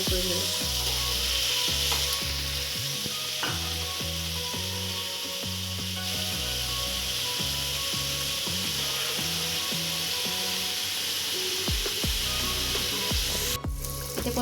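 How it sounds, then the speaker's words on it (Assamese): Cubes of paneer fry in a little oil, sizzling steadily up close while a utensil stirs and scrapes through the pan with repeated knocks. "এতিয়া পনীৰখিনি ফ্ৰাই হৈ গ'ল।"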